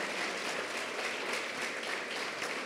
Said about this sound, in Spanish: Damos un fuerte aplauso, bienvenida a las personas que nos visitan.